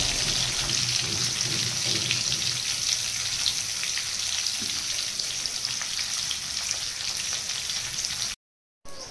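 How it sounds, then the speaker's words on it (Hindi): Onions fry in hot garam masala in a pan, a steady dense sizzle with crackling spatter running without pause until a brief silent gap near the end. "गरम मसला गरम हो गला परे सेथिरे हमर पियाज तापर पका जाइथिला।"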